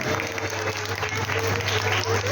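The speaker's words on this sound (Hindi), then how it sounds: "कार्यक्रम पसंद आ रहा है तो जोरदार ताली बजा दो।" Steady clapping from a crowd of wedding guests, dense and continuous, with a low hum running beneath.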